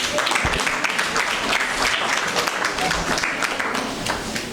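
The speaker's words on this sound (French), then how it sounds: "Applaudissez pour moi quand même." An audience of young people at a leadership talk applauds, steady dense clapping from many hands filling the room, sustained at even loudness with some voices beneath.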